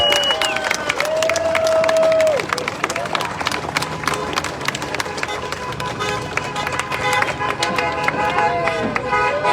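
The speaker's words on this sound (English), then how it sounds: "give yourselves all a big round of applause" An audience of collision repair shop supporters gives itself a big round of applause, loud sustained clapping mixed with cheers and crowd babble, with voices rising over the clapping throughout.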